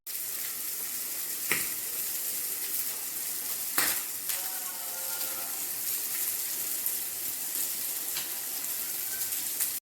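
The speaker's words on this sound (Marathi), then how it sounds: "सो ती आतां फ्राय करता" Prawns and fish fry in a pan with a constant loud sizzling hiss, broken by a few sharp clinks and pops and a faint tonal whine partway through.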